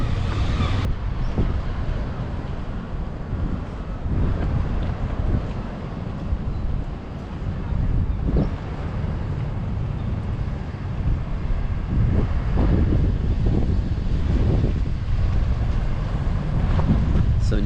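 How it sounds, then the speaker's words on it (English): Strong, continuous wind buffets the microphone on an outdoor boardwalk, a dense low rumble with gusts rising and falling across the whole stretch. "So nice and breezy on the boardwalk."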